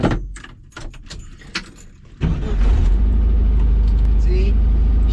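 Keys rattle and a starter cranks briefly before an older Bradley GT II kit car engine catches and settles into a loud, steady idle close by.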